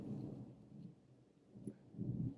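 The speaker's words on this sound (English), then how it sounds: "I'm sorry, it's really thundering here" Thunder from a thunderstorm rolls in low, dull rumbling swells, faint and distant, rising again toward the end with no talking.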